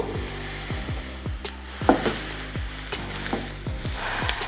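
Onions cooking in a pan for a Philly cheesesteak give a quiet, steady sizzle, broken by repeated knocks and scrapes of a spoon stirring them, with no voice.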